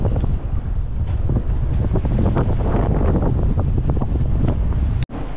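Strong wind and waves during a rough sail on a sailboat, a loud continuous roar of gusting wind across the microphone with repeated splashing wave hits, ending in a brief dropout.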